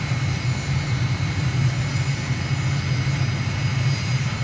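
Steady, loud aircraft engine drone on landing approach in Microsoft Flight Simulator, a continuous low hum with a constant whine above it and no breaks.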